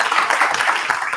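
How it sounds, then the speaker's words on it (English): An audience gives a brief round of applause at a Monday lunch gathering, steady dense clapping filling the short moment without pause. "I think we owe them a round of applause."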